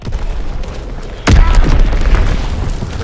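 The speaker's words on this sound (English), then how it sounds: "Enemy bomb incoming!" A loud bomb explosion in the World War II video game Call of Duty WW2 bursts in suddenly after a quiet stretch, then leaves a heavy, rumbling roar that slowly fades.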